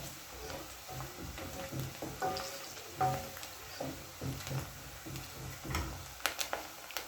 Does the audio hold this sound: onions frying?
yes